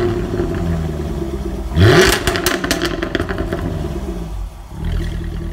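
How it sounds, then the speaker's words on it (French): A Jaguar F-Type Project 7 blips its engine in a sharp, loud rev with crackling exhaust, then settles back to a rumbling idle, close by, with no talk. "Avec les échappements qui font un bruit incroyable."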